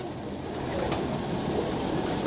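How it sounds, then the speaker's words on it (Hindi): Pigeons in a rooftop loft of old breeder birds, with soft cooing blended into a steady outdoor wash of background noise, no distinct calls standing out clearly. "आज इनकी छत पे आपको कबूतरों का शौक करवा दूँ।"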